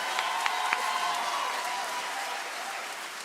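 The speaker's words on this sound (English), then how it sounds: "A round of applause." Sustained applause from an audience at a university cultural evening, a steady wash of many hands clapping that fades slightly toward the end.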